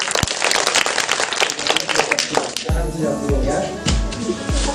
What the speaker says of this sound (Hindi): एक बार ताली बजा के